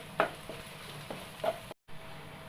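Qeema, minced meat, browns in a pan with a soft continuous sizzle, broken by a few sharp scrapes of stirring and one brief silent gap.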